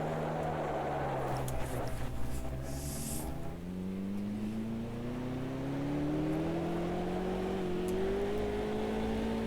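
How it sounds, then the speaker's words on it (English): A race car in the Automobilista 2 racing game accelerating out of a hairpin in third gear, its engine note climbing steadily in pitch as it pulls through the gear, loud and close with no talking. "I think I'm going to leave it in third gear to accelerate out of this corner"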